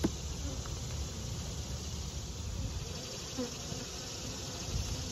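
Honeybees buzz steadily at an open hive during an inspection, a dense continuous drone from many insects close by with no talk over it.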